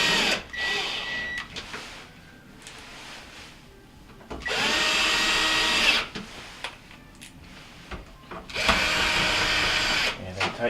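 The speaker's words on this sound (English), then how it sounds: "And I tighten up my last screw that I left loose." A power drill drives a screw into a Whirlpool refrigerator panel in two loud whirring bursts, with quieter handling noises in between.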